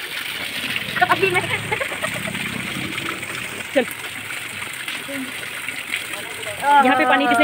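Cold mountain water rushes along a stream on the trek to Tungnath, a steady splashing gush close by, with people talking over it and a short spoken word.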